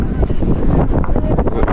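Strong wind on a hilltop buffets the microphone in loud, continuous low rumbling gusts that fill the short stretch.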